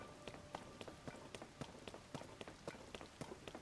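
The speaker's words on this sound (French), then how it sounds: "Il pleut." Quiet rain hisses in The Legend of Zelda: Tears of the Kingdom, a faint, continuous wash behind a steady rhythm of soft, evenly spaced footstep taps.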